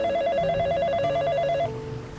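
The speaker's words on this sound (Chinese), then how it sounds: "面头前迄台黑色电话机，袂输会晓抓时间，拄好伫即个坎站洋洋叫。" A black telephone rings in a radio drama, a loud, close, warbling electronic trill that sounds steadily for under two seconds and then cuts off, leaving quiet room tone.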